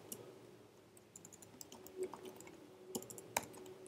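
Close, steady typing on a computer keyboard during Minecraft mod coding, a quick irregular patter of key clicks with a few sharper strokes and a low background hum.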